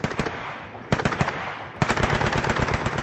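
Machine gun fire rattles in three rapid bursts, each a fast train of sharp cracks with brief pauses between, loud and close with no talking.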